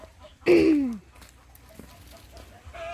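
A loud fowl call rises near the start, followed by softer clucks and scattered farmyard sounds from turkeys and chickens against quiet background noise.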